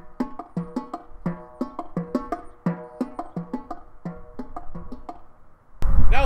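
Marching tenor drums struck with mallets play the Peanuts (Charlie Brown) theme, giving a brisk run of pitched, ringing strokes in a steady rhythm, close and clear, then a short burst of noise at the end.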